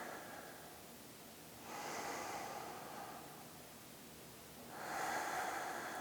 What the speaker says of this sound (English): Taking a few big deep breaths here, focusing on matching the inhales with the exhales